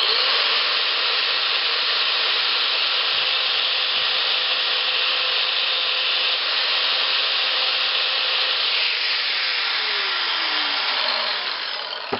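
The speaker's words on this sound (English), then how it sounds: "I'll take my grinder and I'm going to grind that tit off" Angle grinder grinding metal off the pan of a trap, a steady, loud, continuous abrasive whine held for the whole stretch, tapering slightly near the end as the tool eases off.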